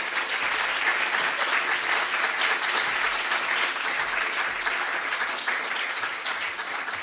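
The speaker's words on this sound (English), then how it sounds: "Another massive round of applause for all of our amazing presenters." Steady, dense applause from an audience at a sustainability showcase event, sustained throughout at an even, loud level with no break.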